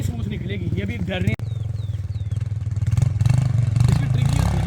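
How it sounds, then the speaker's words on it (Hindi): A dirt bike motorcycle engine runs steadily under continuous nearby talk, its note rising and growing louder toward the end as the rider speeds up. "ये जितना तेज चलाएंगे बाइक उतनी स्मूथ निकलेगी।"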